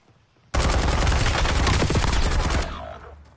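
Sustained burst of rapid gunfire from a strong weapon in the shooter Warzone, loud and close, running continuously for about two seconds before cutting off and fading.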